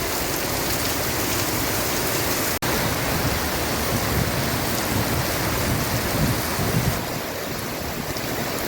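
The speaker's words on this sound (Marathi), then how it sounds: "पाऊस खूप जोरात पडतो आहे" Heavy unseasonal summer rain pours down in a loud, dense, unbroken hiss that never lets up.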